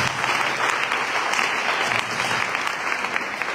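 Church congregation clapping steadily and loudly, a dense continuous applause filling the room with faint voices mixed in.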